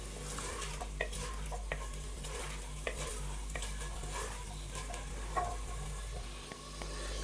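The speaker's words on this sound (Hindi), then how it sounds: "अच्छे से मिक्स करेंगे और चिकन को 3 से 4 मिनट अच्छी तरह भून लेंगे।" Chicken with whole garlic cloves fries in a pan for a Punjabi chicken kadhi, a steady close sizzle with intermittent scrapes and stirring clinks of a spoon against the pan.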